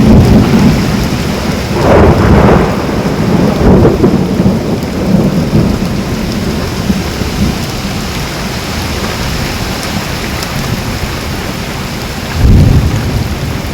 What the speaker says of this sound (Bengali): বজ্রবিদ্যুৎ, দমকা হাওয়া।